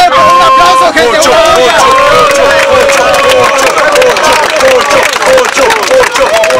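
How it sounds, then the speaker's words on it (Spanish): Loud rap battle audience at a Liga Rapquicia final, applause and cheering filling the space with dense clapping and shouting that runs unbroken throughout, close and overwhelming. "¡Un aplauso, gente!"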